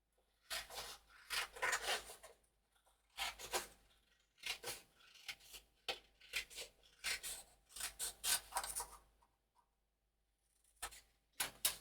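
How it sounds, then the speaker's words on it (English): Scissors cut off the top part of a paper journal piece in quick, crisp snipping and rasping bursts, with short pauses between runs of cuts and no voices. "So let me just cut off this top part."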